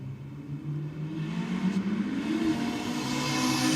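A Holden Gemini drag car launches hard off the line at Sydney Dragway, its engine a loud, sustained rising roar with no break or voices.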